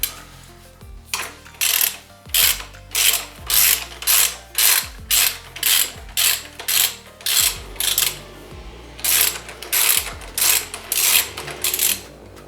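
Rapid ratchet socket wrench clicking while loosening a 10mm bolt on a Kawasaki Vulcan S motorcycle, about a dozen regular close bursts of ratcheting with brief gaps between strokes.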